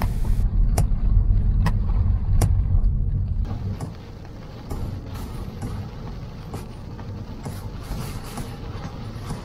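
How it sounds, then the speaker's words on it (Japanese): Car driving south on a Florida road, a steady low rumble of engine and tires with periodic sharp thumps early on, then a quieter, hissier road noise after a few seconds. "ということで再出発、再び南の方へ車を走らせていきます。"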